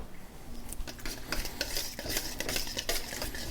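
Thousand island-style sauce, seasoned with salt, is stirred and whisked in a bowl, a steady run of close scraping and clinking of a utensil against the bowl, with no voices.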